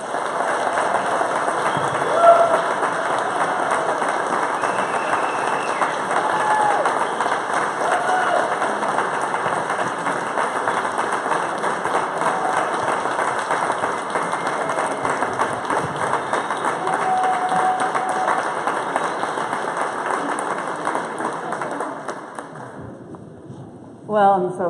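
An audience at a ranch purchase celebration held in a museum hall claps steadily in a dense, sustained round of applause that runs unbroken for over twenty seconds before tapering off abruptly near the end.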